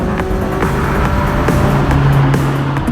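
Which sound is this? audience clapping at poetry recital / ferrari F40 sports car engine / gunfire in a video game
ferrari F40 sports car engine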